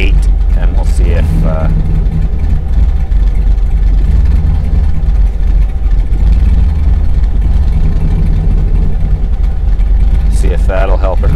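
A car engine idles roughly after a camshaft swap, a loud, steady low rumble close to the microphone that runs throughout, with brief bursts of another sound at the start and end.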